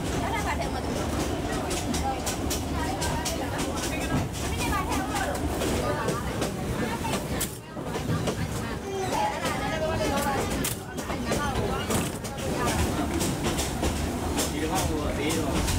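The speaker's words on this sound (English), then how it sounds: "the train moves off towards the Goktak Bridge" A train in Myanmar moves off toward the Goktak Bridge, with a steady rumble and rattling carriages throughout, and voices talking over it.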